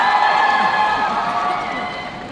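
A large concert crowd at the Araneta arena cheering and screaming, a dense, loud roar that slowly fades over two seconds.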